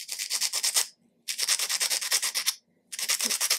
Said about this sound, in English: I'm using some coarse wet and dry here